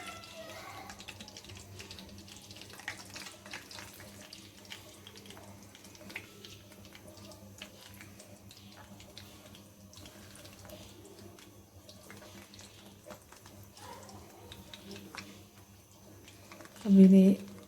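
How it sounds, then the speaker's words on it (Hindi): Potato tikki fry in hot oil in a pan, giving a steady, soft sizzle with light crackles throughout and a brief louder burst near the end. "ऑयल गर्म हो गया। अब इसमें ये मैं टिक्कियाँ डाल देती हूँ।"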